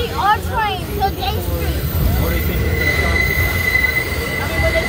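High-pitched metal wheel squeals ring out early, then a loud, steady rumble of a New York subway train on the BMT Broadway/Brighton line rolls on with a thin sustained screech overhead.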